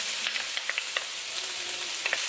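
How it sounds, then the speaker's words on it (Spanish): Onion frying in a little hot oil for a cabbage and beef stew, a bright continuous sizzle with faint stirring taps scattered through it. "Sofreímos la cebolla."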